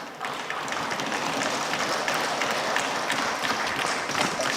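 Sustained applause from members in the Rajya Sabha chamber, dense steady clapping that continues without pause.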